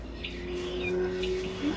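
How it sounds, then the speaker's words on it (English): A small bird chirps faintly, giving a few short, scattered calls over a steady low background hum. "damn bird"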